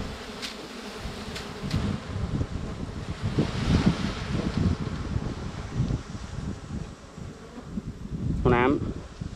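Dwarf honeybees hum and buzz around a nest being pried loose outdoors, a steady droning swarm mixed with wind gusts and rustling, while someone talks intermittently nearby.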